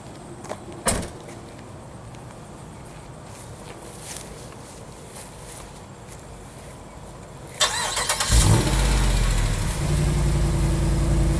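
Quiet outdoor shuffling and a few clunks, then a 2009 Jeep Grand Cherokee SRT8 V8 engine cranks and roars to life, settling into a deep, loud, rumbling idle.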